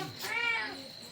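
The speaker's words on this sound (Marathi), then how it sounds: "मांजरीचं पिल्लू लय ओरडतोय." A kitten gives a single high, drawn-out meow, close and fairly clear against a quiet background.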